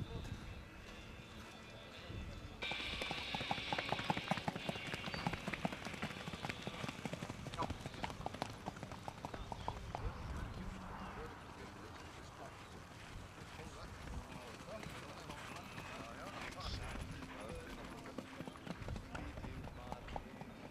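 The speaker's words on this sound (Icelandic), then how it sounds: "Allir þessir hestar eru undan Orra frá Þúfu." Hooves clip-clop in a steady trotting rhythm from several Icelandic horses, sired by Orri frá Þúfu, close by and outdoors with wind, while someone talks over them throughout.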